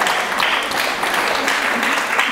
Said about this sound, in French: Razak, vous pouvez l'applaudir.